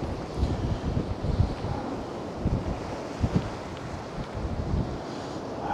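Rough sea waves surging at high tide on the Blackpool seafront in freezing weather, a continuous broad roar of surf with rising swells and steady gusting wind buffeting close by, no voices.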